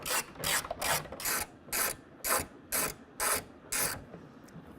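A hand ratchet clicks in nine even bursts as it backs out tonneau cover rail bolts on a 2022 Toyota Tundra, close and clear with brief pauses between strokes.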